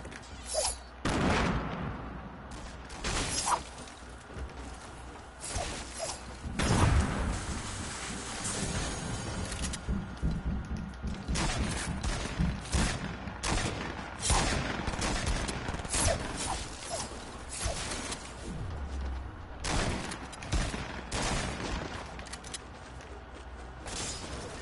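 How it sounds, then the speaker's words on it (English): Rapid bursts of video game shotgun fire mixed with other weapon blasts and mechanical clatter, loud and dense throughout, in repeated sharp volleys with no pause. "Give me this filthy gun. They call it a shotgun."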